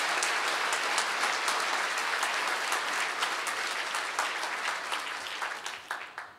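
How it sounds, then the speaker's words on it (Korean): A church congregation claps at a 30th anniversary service, with dense, steady applause throughout that fades slightly near the end, without speech over it. "박수 한번 쳐주시죠."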